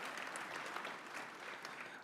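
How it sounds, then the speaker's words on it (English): An audience at a Detroit Economic Club event applauds to thank sponsors and welcome students, a dense, even patter of many hands held steady for two seconds at a fairly faint, distant level. "So how about a round of applause to thank our sponsors and to welcome our students."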